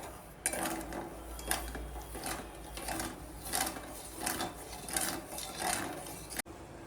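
Sugar syrup being stirred in a pan, rhythmic scraping and clinking strokes of a spoon against the metal repeating about once a second, close and fairly quiet, no voices.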